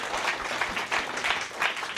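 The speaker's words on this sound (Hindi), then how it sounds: "जोरदार तालियां हो जाए इस बच्ची के लिए प्लीज।" Audience applause for a young girl at a memory-skills show, steady broadband clapping with swelling bursts throughout, fairly close.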